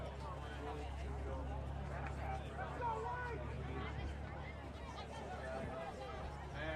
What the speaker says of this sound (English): Great crowd here at Hilton for a Thursday night matchup.